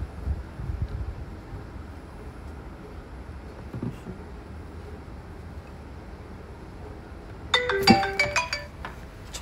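A phone ringtone for an incoming call chirps out in a quick burst of bright repeated electronic tones near the end, after a long stretch of quiet room hum.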